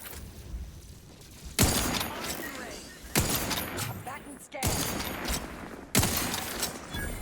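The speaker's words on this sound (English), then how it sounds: "He's got artillery shots." Artillery gunfire in The Outer Worlds 2 strikes as four loud, sharp blasts spaced about a second and a half apart, each trailing into a rumbling, crackling decay, with in-game noise and talk running beneath.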